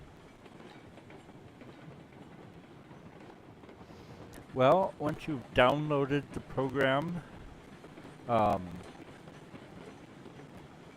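A train in Railroads Online rolls along with a steady, low rumble and rhythmic rail noise throughout, while someone talks over it partway through.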